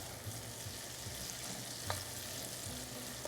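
Three tablespoons of butter melting in a pot over low heat, giving a steady, quiet sizzle and crackle with a couple of small pops.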